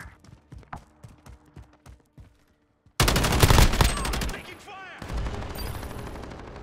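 Gunfire in Call of Duty Modern Warfare: a quick run of sharp, rhythmic shots, a short pause, then a loud, dense burst of overlapping fire and explosions that slowly thins out.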